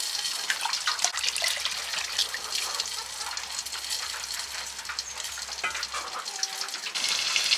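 Soaked, washed rice poured into a hot pot for khichuri gives a broad hissing sizzle with watery gushing and a few stirring sounds, close and steady, no talking.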